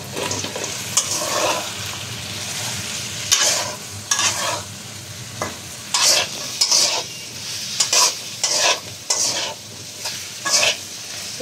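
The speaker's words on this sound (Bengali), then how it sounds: "তো এখন ভাজিটা হতে থাকুক।" Chopped onions and green chillies frying in oil for a chicken curry, a steady sizzle broken by repeated bursts of a spatula scraping and stirring the pan, close up.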